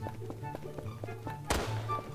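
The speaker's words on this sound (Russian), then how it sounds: "Опа, слышу выстрел." A single sharp gunshot in the Garry's Mod video game bursts out partway through, standing alone above a low, faint background of game sounds.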